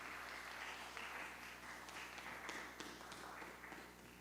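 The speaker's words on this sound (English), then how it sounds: "another round of applause, please" A conference audience gives a faint, distant round of applause, a low wash of scattered clapping over steady room hum.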